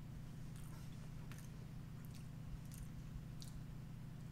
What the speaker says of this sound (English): It is hard to chew.